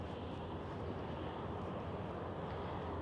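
An Austrian Airlines jet taxis at Vienna airport, heard from the visitors terrace as a steady, fairly faint engine roar and broadband rush that holds evenly throughout.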